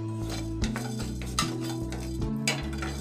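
Fenugreek seeds roast in a pan and are stirred with a utensil that scrapes and clinks against the metal in quick, close strokes over a low, steady background hum.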